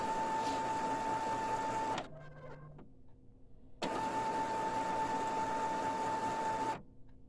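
An Epson SX218 inkjet printer runs its ink charging cycle, a close steady mechanical whine that cuts out after two seconds into softer clicks and a low motor hum, then resumes loudly before stopping again.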